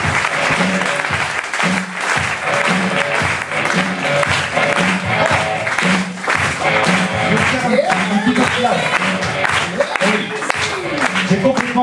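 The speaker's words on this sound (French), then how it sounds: "J'aimerais, s'il vous plaît, un tonnerre d'applaudissements pour Monsieur Zapata." A French TV-set audience gives a long, loud burst of applause for a painter-performer on stage, sustained clapping with a few thumps, while a voice speaks over it.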